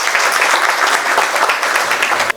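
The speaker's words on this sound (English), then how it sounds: "Please, let's welcome him with a round of applause." An audience claps in sustained, dense applause at a MasterCard launch event, welcoming the vice president to the stage, steady and fairly loud before cutting off abruptly.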